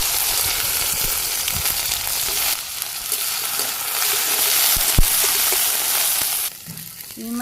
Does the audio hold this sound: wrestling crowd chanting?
no